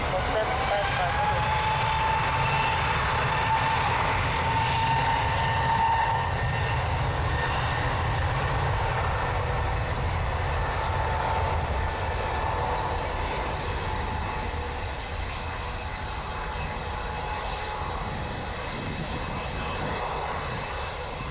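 A plane taking off at Lisbon Airport, a loud sustained jet engine roar holding steady throughout, with a faint tonal whine early on and a slight drop in level toward the end.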